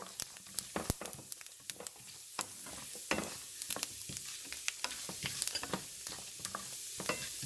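Mustard seeds, fennel, chana dal, urad dal and fenugreek spluttering in hot oil for a squid curry, a low sizzle broken by many sharp scattered pops and crackles throughout.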